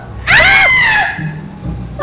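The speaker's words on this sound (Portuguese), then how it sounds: "A mamãe tá gritando, papai." A voice in GTA 5 lets out a single sharp, high-pitched scream lasting under a second, loud and close, then fades into low background noise.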